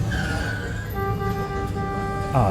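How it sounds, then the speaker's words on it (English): Car horns honk in a busy street scene from a Dolby Atmos movie soundtrack, sustained tonal blasts over dense traffic rumble and city noise. "the honking is coming from like that direction"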